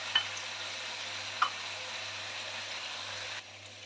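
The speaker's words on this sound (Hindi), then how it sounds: "अब इसमें हम शामिल करेंगे टमाटर, ये स्लाइस में कट किए हुए मेरे पास टमाटर हैं" Sliced tomatoes go into a hot pan for Kashmiri chicken masala, giving a steady, even sizzle with a couple of brief clinks near the start, heard alone at close range.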